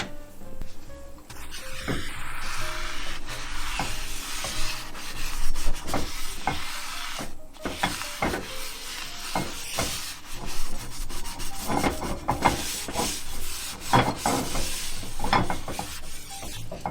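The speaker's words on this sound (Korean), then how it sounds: "프라이팬이 약간 달궈지면 키친타올을 이용을 해서 이 기름을 닦아줄 거예요" Kitchen towel rubbed and scrubbed across a lightly heated frying pan to wipe off oil, with attention on the corners, giving steady close-up scraping and rubbing strokes with faint sizzling and no talk.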